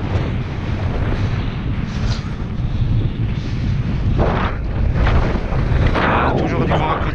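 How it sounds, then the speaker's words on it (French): A headwind buffets the microphone during a mountain bike ride in the Franches-Montagnes, a loud continuous roar with gusty surges, and someone speaks briefly over it. "Ah, toujours du vent à contre sens"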